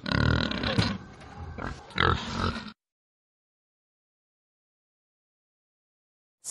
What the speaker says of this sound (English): Boar.